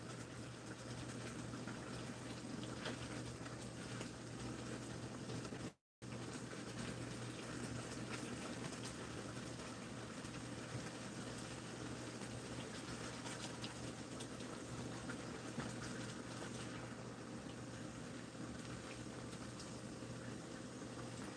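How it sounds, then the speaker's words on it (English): A steady, low bubbling and hissing of Mediterranean chicken sauce boiling in a skillet continues throughout, faint and unbroken apart from one brief cut. "see how it's boiling?"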